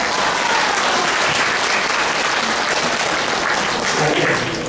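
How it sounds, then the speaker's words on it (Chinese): A hall audience at a church senior fellowship Christmas and elder-honouring celebration in Taichung applauds, a dense, steady wash of many hands clapping together that holds evenly for several seconds and thins slightly at the end. "咱要鼓掌一下啦"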